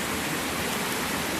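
River water rushing past a woodland crossing near old mine workings at Caerwych, a dense, steady, close roar of flowing water with no other sounds.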